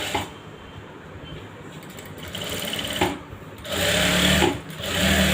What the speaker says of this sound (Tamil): இந்த பாயிண்டில் வந்து பரிமாண தையல் போடுங்க